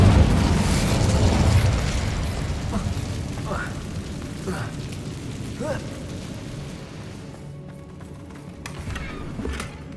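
An Incendio fire spell cast in the Hogwarts Legacy video game bursts with a loud, broadband whoosh that fades over the first two seconds, followed by quieter game effects and a speaking voice.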